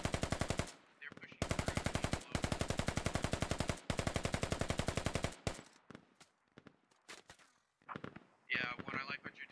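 Machine gun fire with tracers in the video game Squad at dusk, several long sustained bursts of rapid rhythmic shots separated by short pauses, then scattered single shots and a brief harsher burst near the end.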